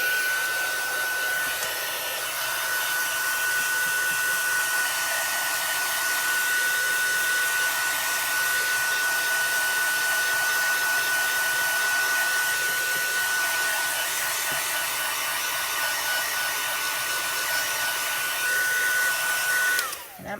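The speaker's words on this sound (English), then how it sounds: "I'm going to do real quick blow with the heat tool just to set it a little bit and dry everything in place." A craft heat tool blowing on paper craft work to set and dry it, a loud continuous fan-heater whoosh with a faint steady whine that holds for about twenty seconds, then cuts off.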